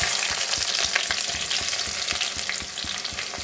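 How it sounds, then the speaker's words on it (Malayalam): Sliced onions fry in hot oil already holding mustard and fenugreek seeds for a Kerala-style coconut milk curry, a dense near sizzle with regular stirring taps throughout. "എന്താ നമുക്ക് സവാള ഇടാം."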